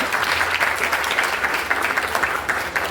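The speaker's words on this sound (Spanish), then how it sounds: "vamos a darnos un aplauso chévere" An audience at a talk with tennis players applauding, dense steady clapping that holds at an even level for a few seconds.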